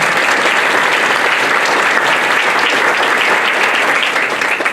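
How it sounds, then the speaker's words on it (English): Dense, steady audience applause at a candidate forum for 20th District Senate candidates, loud and close, holding evenly throughout before easing slightly at the end. "Let's give them a round of applause"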